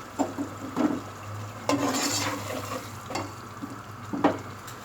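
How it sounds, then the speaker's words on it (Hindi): Onions frying in a pot for beef korma, a low sizzle under repeated scraping and clanking strokes of a spoon against the metal, close and fairly quiet. "हमने प्याज डाल के भूनना है अच्छी तरह"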